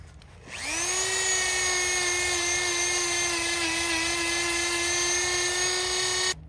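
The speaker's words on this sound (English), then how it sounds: "So I'm going to have to use my Dremel." A Dremel rotary tool working rust off an old axe spins up quickly to a loud, steady, high-pitched whine held close for about six seconds before cutting off, with no talking.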